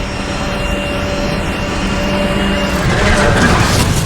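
A Porsche in Need for Speed: The Run holds its top speed of about 310 km/h, its engine a loud, continuous drone mixed with rushing wind that swells slightly toward the end.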